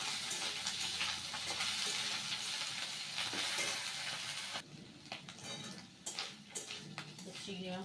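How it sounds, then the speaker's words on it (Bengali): Chopped prawns go into a pan of already browned fried potatoes. A loud hissing sizzle fills the first part, then it drops quieter with scattered clinks of utensils against the pan. "এবার এর মধ্যে কুচনো চিংড়ি মাছটা দিয়ে দেবো, দিয়ে ভালো করে ভেজে নেব"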